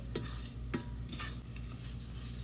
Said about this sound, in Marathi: तर यामध्ये ओलं नारळ ॲड केल्यानंतर हे मिश्रण चांगलं परतून घ्यायचंय